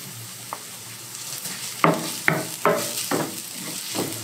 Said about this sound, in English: those veggies are well sauteed down, so I'm just mincing in 2 whole heads of garlic